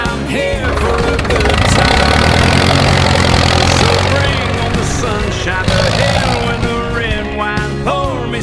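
A truck engine idles loudly through a rough, unmuffled exhaust. It is a continuous heavy rumble that rises and dips slightly, close and dominant throughout, with other tones layered over it.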